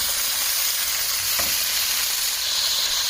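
Beef rouladen browning in a hot pan give off a loud, steady sizzle and crackle of frying fat, continuous and close with no talking.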